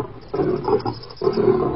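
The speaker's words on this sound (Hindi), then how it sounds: "अचानक उनको एक शेर की आवाज़ सुनाई दी" A lion roars in two rough, throaty bursts, close and loud, with a short gap between them and a faint high hum behind.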